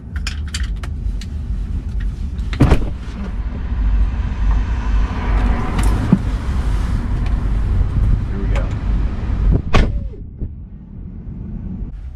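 A Tesla Model 3 driving through downtown Chicago past construction: low road rumble and steady traffic noise with occasional sharp knocks and clatters, heard from inside or on the car, and a voice talking partway through.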